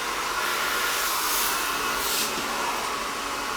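A hair dryer blows steadily as hair is wound on a round brush for a volumizing blowout, a loud continuous airy roar with slight swells, no talking.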